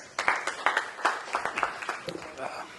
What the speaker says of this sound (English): Please welcome Mr. Paliwal with a warm round of applause.